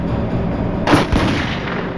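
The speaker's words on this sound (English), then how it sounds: "2 masked robbers shot the guard in the back" Gunshots during an armed bank robbery, a sharp blast near the one-second mark followed by a second report, ringing over a steady background rumble with no talking.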